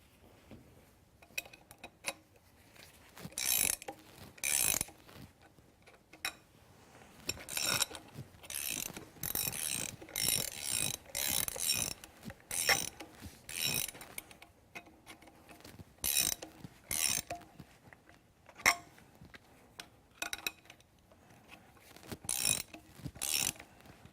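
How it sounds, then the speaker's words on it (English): Spools being turned by hand to push a press brake restraint bar (R-bar) forward out of the die slot, giving repeated clicky ratcheting bursts in uneven runs, fairly close and crisp, with no talking. "we're going to turn the spools to push the bar forward, making sure you do it evenly across the bar"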